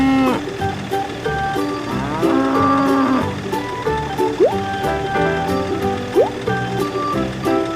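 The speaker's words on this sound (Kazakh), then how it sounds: "Сиыр." A cow moos several times, low drawn-out calls that rise and fall over a light, steady background of music and flowing-water-like sound.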